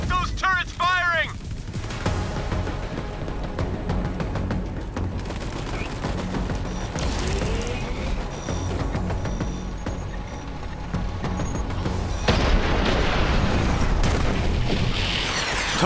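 Turrets fire and explosions boom in a Borderlands 3 battle scene, with bursts of rapid gunfire, heavy blasts and a rumbling background, starting with brief electronic chirps and building louder toward the end.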